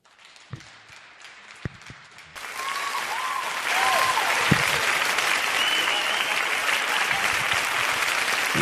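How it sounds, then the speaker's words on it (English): Audience applause after a speech at an event, steady dense clapping from a crowd that swells louder partway through and carries on to the end, with a few isolated taps and faint voices mixed in. "Ladies and gentlemen, you are clapping for me."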